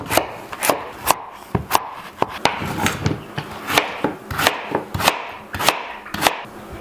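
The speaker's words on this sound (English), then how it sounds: "We're going to cut the pumpkin into smaller pieces in order to fit into the Instant Pot." A knife chops through a pumpkin on a cutting board, cutting it into smaller chunks with a steady run of sharp, close thuds. There is no talking.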